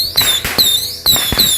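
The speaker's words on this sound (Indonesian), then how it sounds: "selanjutnya ini kita nyalakan mercon tikus box 25 shot" Mercon tikus box 25-shot firecrackers going off at night during Ramadan, a few sharp crackling bursts with whistling streaks, loud and close.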